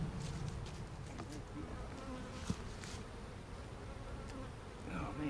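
A steady, dense buzzing of many honeybees at an abandoned hive fills the scene close by, with a few louder passes as individual bees fly near.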